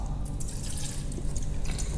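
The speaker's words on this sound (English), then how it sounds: "pour a box of the milk into a pot" Milk pours from a carton into a cooking pot, making a brief, quiet liquid splashing and trickling.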